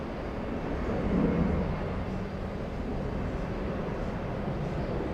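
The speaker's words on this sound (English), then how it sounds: "Let's go for the Qatari 701 flight. The big 777-300." A Qatar Airways Boeing 777-300 jet at JFK gives a steady, broad engine roar that swells slightly early on and then holds as a continuous rumble at a moderate distance.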